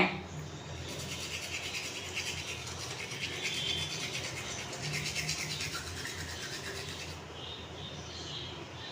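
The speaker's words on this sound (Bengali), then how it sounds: "আজকে দাঁতটাকে ঘষে ঘষে ঘষে ঘষে আমি মুক্তো বানাবো" A toothbrush scrubs teeth in a continuous, close, soft scratchy rubbing that runs steadily for several seconds before easing off, with no talking.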